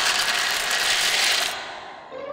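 Dense, rapid crackling and crunching of baby birds breaking out of their eggs in a nest, loud and close, holding steady before stopping suddenly and leaving a quieter tail, no talking.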